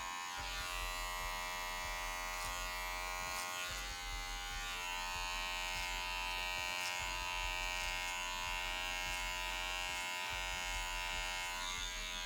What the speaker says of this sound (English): the clipper won't start cutting until it gets all the way down to here, because that's where the cutting blade is